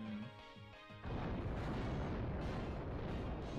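The Pokemon move Explosion in Pokemon Sun and Moon: a short tonal game sound, then a sudden loud booming blast that keeps roaring and rumbling to the end, with no voices.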